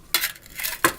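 Titanium camp pots and pans clink together, two bright metallic knocks close to the listener about three quarters of a second apart, with a short ringing tail after each.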